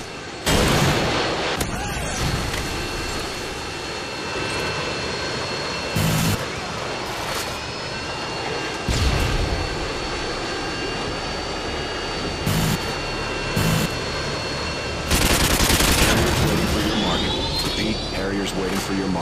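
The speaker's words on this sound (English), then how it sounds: "Friendly Predator missile incoming" In the Modern Warfare 2 battle game, a Predator missile strike and gunfire come as loud explosive blasts and bursts of shooting that recur every few seconds over a steady aircraft-like drone, with voices talking through the mix.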